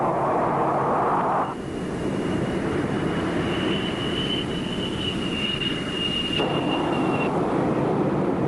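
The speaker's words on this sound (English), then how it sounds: "the correct glide slope to fly the aircraft onto the deck and catch the wire" A Vietnam-era U.S. jet fighter lands on an aircraft carrier deck with a loud, continuous engine roar and a thin high whine that rises, holds for several seconds, then drops away.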